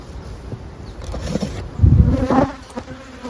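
Honeybees buzz in a dense, droning swarm close by in an open hive, the hum swelling louder midway with some handling noise, no voices.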